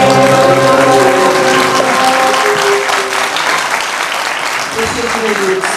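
An audience claps loudly and continuously after a Turkish classical music choir performs at a concert. A few sustained musical tones fade out under the ovation.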